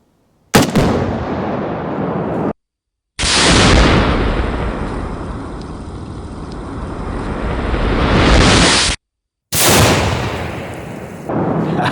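An exploding target struck by an FN SCAR 17 at 60 yards gives loud, heavy booming blasts, three long roaring bursts separated by brief silent gaps, each sustained and close.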